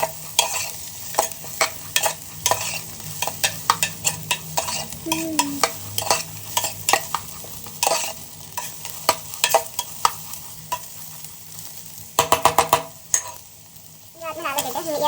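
Sprouted horse gram and green gram frying in oil for a Kannada sambar, with steady sizzling and repeated scraping stirs of a spoon against the pan, close and continuous.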